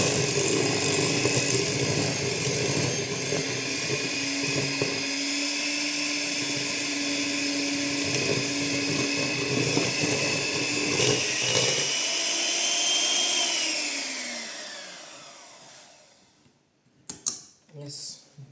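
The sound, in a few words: electric mixer mixing muffin batter with eggs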